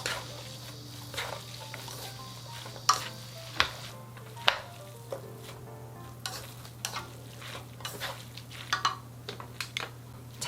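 Japchae glass noodles with sesame seeds being stirred and tossed in a frying pan, soft scraping and light sizzling with scattered clinks of utensil against the pan over a steady low hum.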